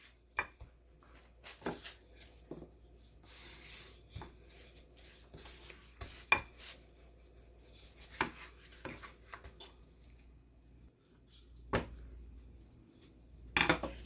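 A rolling pin works tofu snack dough thin on a board, producing soft intermittent rubbing and knocking sounds with faint clicks, quiet and close, with no talking.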